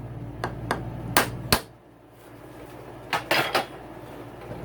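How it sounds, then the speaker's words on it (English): Work on the power valve cover of a YZ250 two-stroke dirt bike engine, with sharp metallic taps and clinks in short clusters, close against a low steady background hum. "I gotta remove the power valve cover."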